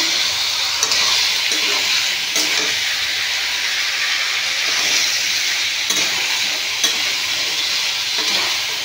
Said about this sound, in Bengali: কুমড়োকে তো বেশি কষাতে লাগে না, তবু একটু হালকা করে ভেজে নিচ্ছি, একটু কষিয়ে নেব